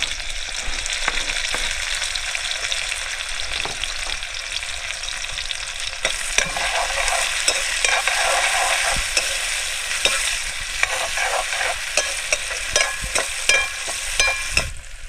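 Chopped onion and tomato, added after garlic and chilli, frying in a pan at an outdoor forest cooking spot, with a steady loud sizzle and scattered sharp clicks and scrapes of stirring throughout.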